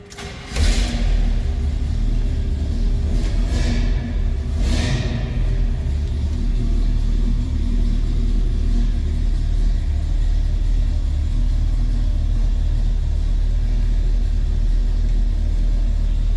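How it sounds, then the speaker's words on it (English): A 1971 Chevrolet C10 pickup engine cranks briefly and catches, then settles into a steady, loud, low rumbling idle that holds for the rest of the stretch, with no talking. "Got a little rumble coming out of this Chevy."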